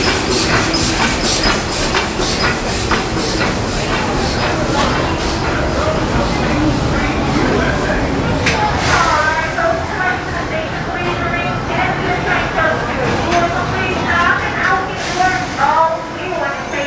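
Main Street railroad train at Magic Kingdom running on rails, a loud continuous close rumble with rhythmic clickety-clack of wheels and occasional squeals throughout.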